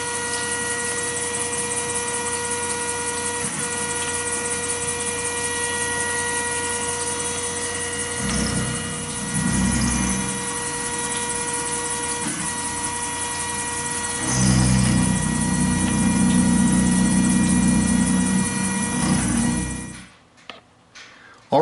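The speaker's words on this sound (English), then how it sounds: "you're hearing that chatter because the bit is kind of just trying to find its center as it's going down" A CNC cutter mills a Glock 27 slide, giving a steady machining whine with dense harmonic tones and an uneven chattering rumble that grows louder in bursts midway and near the end, then stops abruptly.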